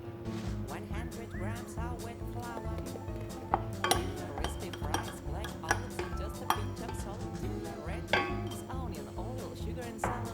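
A utensil stirs bread dough with a risen starter in a bowl for old-fashioned soft doughnuts, making repeated clinking and scraping taps in an uneven rhythm, with a steady low hum underneath.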